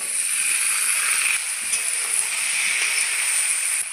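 Potatoes and peas hit hot oil cooked down with coriander and chilli powder for ghugni, giving a loud, steady sizzling hiss that holds evenly from start to finish with no voices.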